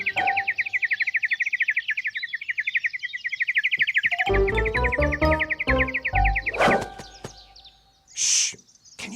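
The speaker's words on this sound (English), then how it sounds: "Can you sing more quietly, please, Bird?" A cartoon bird sings a rapid run of bright, high chirping notes, then a lower sequence of tones follows, with a few sharper calls near the end; no one speaks over it.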